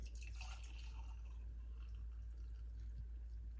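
A warm drink poured at home, a soft trickling and dripping liquid sound running steadily and quietly, close by and with no talking over it.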